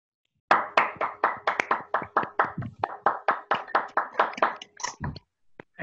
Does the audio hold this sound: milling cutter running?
no